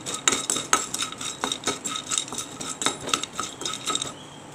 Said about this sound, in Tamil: சூடானோடனே பட்டையை போட்டுக்கலாம். பட்டையை போட்டு நல்லா வறுத்து விட்டுக்கலாம்.